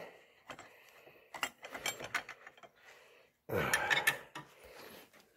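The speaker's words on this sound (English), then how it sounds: "And I'll tighten my clamp here." A clamp being tightened on a homemade knife sharpener with the blade set in it, producing close metallic clicks, scrapes and ratcheting clatter in irregular bursts with no speech.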